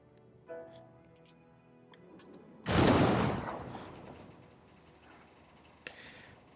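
In Civilization VII, units fire on a dreadnought: one loud, sharp blast erupts and trails off into a rumbling decay over a couple of seconds, with faint ticks and soft game sounds before and after.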